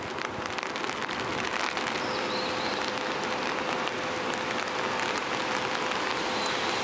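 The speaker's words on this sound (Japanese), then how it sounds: "あいにくの雨ですね。" Steady heavy rain falling outside in Tokyo, a dense continuous hiss of drops with a faint constant tone running underneath, no talk.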